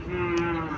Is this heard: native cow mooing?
yes